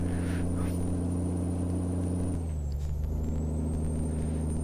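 Heavy diesel engine of a modded Peterbilt 389 truck in Euro Truck Simulator 2, a steady loud low drone with whining harmonics that dips in pitch midway as the revs change, with no voices over it.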